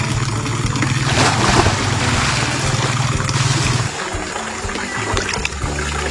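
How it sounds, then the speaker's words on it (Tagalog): Clear, chemical-free running water at a resort in Teresa, Rizal rushes and splashes steadily and close by, a dense continuous wash with no voices. "Running water mga sadik, wala siyang halong chemical."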